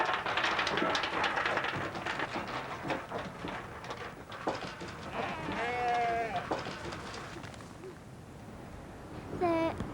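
Sheep bleat now and then over a busy, noisy outdoor scene with voices talking, the calls rising clearly above the clatter near the middle and end.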